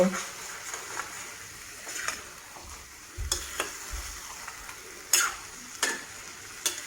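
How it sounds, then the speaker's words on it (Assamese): Fish head masala fries in oil over low heat, giving a faint, steady sizzle with soft stirring scrapes and occasional clicks of a utensil against the pan. "তেনেকৈ আপুনি কম জুইত 5 পৰা 10 মিনিটৰ ভিতৰত ভাজিব"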